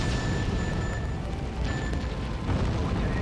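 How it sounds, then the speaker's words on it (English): A player's bomb going off in the Gigawing Generations arcade shoot-'em-up on PlayStation 2, a sustained dense roaring blast that fills the whole stretch at steady high loudness, with faint tonal game sounds layered over it. "Oh, okay, so that thing was my bomb."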